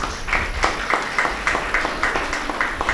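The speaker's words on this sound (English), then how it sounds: "please give her a huge round of applause" An audience at a national moot court competition at a university applauds the convener, with dense, steady clapping from many hands heard up close throughout.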